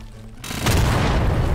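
A powerful weapon in Garry's Mod lets off a single heavy booming shot, close and loud, that swells in and then holds as a dense roaring rumble to the end.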